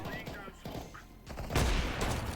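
Video game gunfire rattles in quick close bursts, with a louder, heavier volley landing partway through the short stretch, as a voice talks over it.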